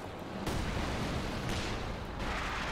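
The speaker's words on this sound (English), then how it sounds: "Incendiary Mortar, effective versus the Glider." Incendiary mortar fire in Company of Heroes 2, heard as a dense, continuous rumbling barrage with muffled booms and crackling blasts layered over one another at moderate volume.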